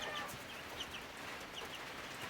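Silkie chickens on a homestead cluck softly and steadily, a faint, low murmur of hens close by with no talking.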